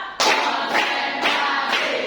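A school class claps in unison in a classroom: four sharp group claps, evenly spaced about half a second apart, each a loud burst with a short ringing tail, and no talk over them.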